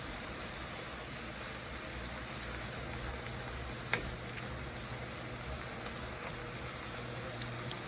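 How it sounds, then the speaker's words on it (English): Meat browning in a cast iron pan alongside cooked vegetables: a faint, steady sizzling hiss that keeps going throughout, with a single small tick partway through and no voices. "Here we have our meat browning"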